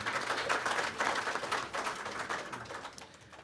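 An audience applauds at the SAGO 2022 opening ceremony, a steady, moderately faint patter of many hands clapping that thins out toward the end.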